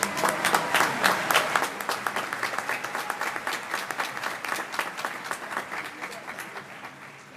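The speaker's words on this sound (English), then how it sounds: "Please join me in giving all our graduates a well-deserved round of applause." Audience at a naval postgraduate school graduation clapping for the graduates, a loud, dense round of many hands that gradually thins and fades over several seconds.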